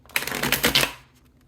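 Tarot card deck being shuffled, a quick burst of riffling card flutter lasting under a second, close and fairly loud, then falling silent.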